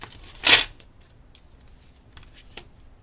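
One quick riffle of tarot cards shuffled close by, followed by a few soft taps and rustles in a quiet room.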